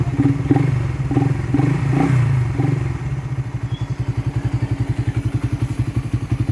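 A Suzuki Raider 150 motorcycle on its stock exhaust pipe blips its engine in a few throttle bursts, then settles into a loud, close, rapid, pulsing idle thump.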